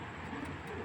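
An imported-bloodline male pigeon coos in a low, steady, throaty burble, close and continuous over a short moment, with no voices.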